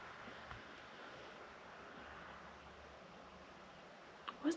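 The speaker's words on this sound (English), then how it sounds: "Where's the wind picking up all of a sudden?" Wind gusts at night outside a church, a steady broadband rush that holds through the clip with a few louder buffets near the end.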